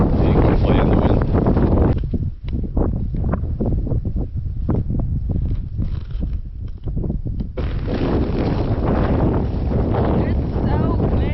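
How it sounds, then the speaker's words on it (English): Strong gusting wind roars and buffets the microphone across a flat, open lakeside stretch during the Homer Epic ultra race, loud and continuous, easing slightly in the middle before surging again. "It's so windy."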